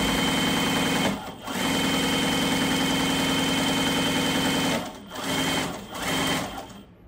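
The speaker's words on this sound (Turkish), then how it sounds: "makine şu an sessiz. Sadece motor sesi duyuyorum" A Tugi MK1919 overlock sewing machine motor runs steadily and loudly, dipping briefly in a few short pauses before carrying on, with no talking.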